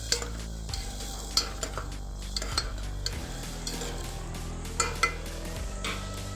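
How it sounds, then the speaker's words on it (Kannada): Pulao ingredients fry in oil in a pot, a soft steady sizzle broken by repeated sharp clinks and scrapes of a stirring spoon against the metal. "ಇದು ಎಣ್ಣೆಯಲ್ಲಿ ಸರಿಯಾಗಿ ಫ್ರೈ ಆಗಬೇಕು, ಹಸಿ ವಾಸನೆ ಹೋಗ್ಬೇಕಿದ್ದು."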